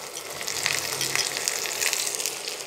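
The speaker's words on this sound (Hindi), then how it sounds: "अब हम इसमें ये प्याज डाल देंगे" Sliced onions sizzling in hot oil with ajwain, coriander seeds and curry leaves, a steady close crackling hiss with spitting pops throughout and no voices.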